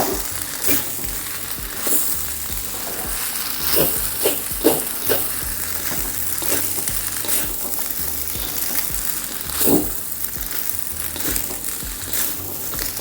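Vegetable nasi goreng sizzles in a pan with spring onion as it is stirred. A constant frying hiss carries scattered scraping strokes from the spoon, close-up with no voices.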